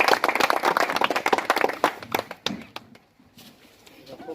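An audience at a gathering about a Bihar minister gives a hearty round of clapping to welcome a guest, loud and dense at first, then thinning into a few scattered claps before fading out.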